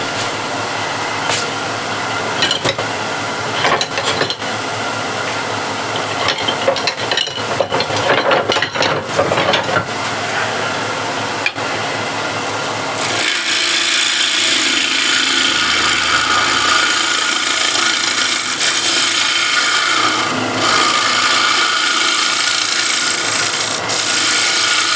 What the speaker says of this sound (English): for the last here portion I'm going to use scraper.